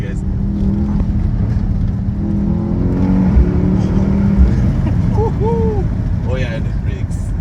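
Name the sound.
Mercedes-AMG GLS63 engine accelerating in second gear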